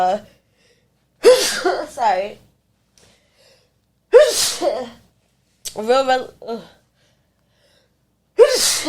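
A person sneezes several times in quick succession, loud and close, with sharp gasping intakes of breath and a brief spoken word between the sneezes.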